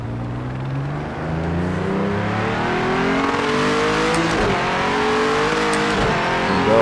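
A GT3 race car in the Project CARS 2 racing game revs hard and accelerates through the gears, a loud, continuous engine note climbing in pitch with rising and falling harmonics and no talking.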